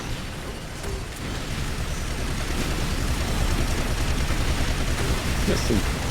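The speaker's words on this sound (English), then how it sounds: "There's some serious firepower going in." Sustained gunfire and explosive booms from the video game Earth Defense Force 5, a dense, steady barrage holding at a fairly loud level throughout with no gaps, overlaid by game noise.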